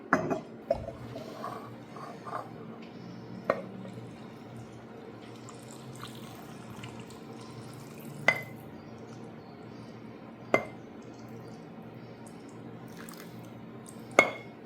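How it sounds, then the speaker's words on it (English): Cooled water being poured over peppers packed in canning jars for preserving, a soft continuous liquid trickle with a few sharp clinks and splashes, quiet and close, with no talking. "So we're just gonna pour it on top of the peppers here."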